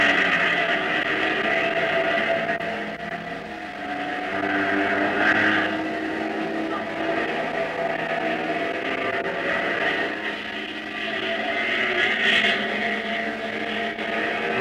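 Race cars at the 1956 Sebring endurance race in roughly 90-degree heat roar steadily close by, engine drones swelling and fading as machines pass one after another, with no voices over them.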